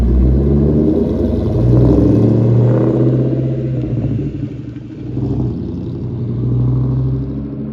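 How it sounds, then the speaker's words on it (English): A Ford Mustang Terminator with a Borla touring cat-back exhaust is driven past close by, a loud deep engine rumble that rises and eases slightly, with faint road clatter and no talking. "So that was my friend driving my brother's Terminator"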